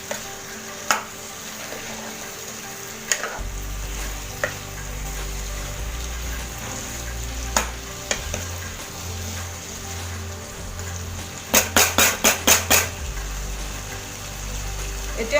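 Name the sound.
chicken and potato masala frying in a pan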